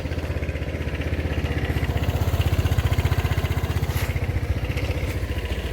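A Royal Alloy TG300S scooter engine runs steadily at a fast, even idle, its rear wheel spinning off the ground; the close, constant throb carries on without talk or revving.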